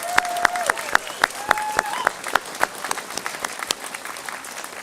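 A convocation audience at a Kelowna campus graduation ceremony gives a round of applause: many sharp, uneven claps ring out across a busy, steady wash of hand-clapping, with a few brief whistle-like tones rising above it.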